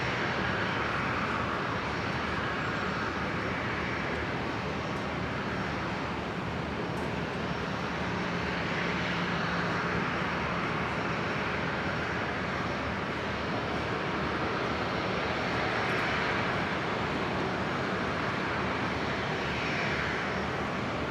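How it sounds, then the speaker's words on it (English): An Air Niugini airliner begins its takeoff roll at Brisbane International Airport, a broad steady engine roar held at moderate distance for about twenty seconds with no voices. "The New Guinea 76 just beginning its takeoff roll."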